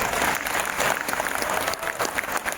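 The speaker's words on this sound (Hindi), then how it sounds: "एक जोरदार ताली" Loud, dense audience applause at a business seminar, steady clapping from a large crowd that fills the whole stretch without a break.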